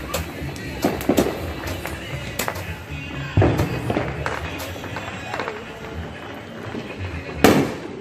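Roman candle fireworks shot outdoors at night, giving several sharp pops and bursts at irregular intervals, fairly close, with background crackle and some faint voices.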